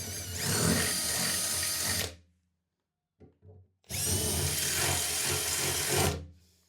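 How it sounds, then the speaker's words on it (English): A power drill bores through van body metal to widen holes for rivets, running in two loud, steady bursts of about two seconds each, separated by a short pause with a few faint knocks. "I need to drill those holes to make them a little bit bigger so the rivets fit in"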